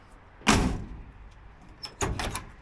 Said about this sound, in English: This door used to sag, and it didn't open and close easily.